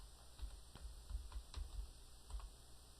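Faint keystrokes click on a computer keyboard in a quiet room, a short irregular run of light taps over a low hum while a word is typed into the Windows search.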